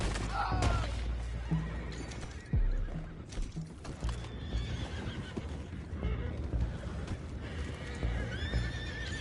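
Horses neighing and whinnying in Red Dead Redemption 2, several loud cries over clip-clopping hooves and a busy outdoor scene with occasional thuds and some voices.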